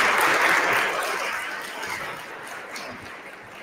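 An audience applauds award recipient Kyle Haynes at the EFF Awards 2022, a swell of clapping that is loudest at the start and gradually thins and softens over a few seconds.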